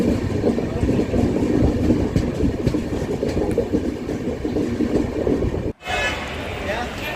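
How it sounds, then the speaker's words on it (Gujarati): A passenger train heading toward Vadodara rumbles along steadily with a broad, continuous roar and faint rattling, briefly cutting out near the end before the noise resumes. "આ દોસ્તો આપણી ટ્રેન છે જે વડોદરા તરફ આગળ વધી રહી છે"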